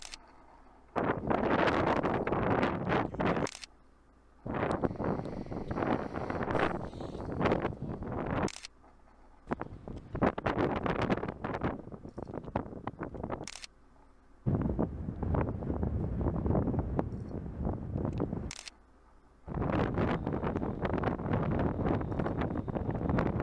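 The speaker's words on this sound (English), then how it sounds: "Windy it is." Strong wind gusts buffet the microphone outdoors, coming in loud roaring bursts of a few seconds each, broken by brief lulls, with no voices.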